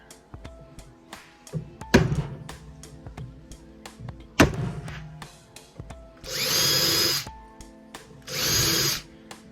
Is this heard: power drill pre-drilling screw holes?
yes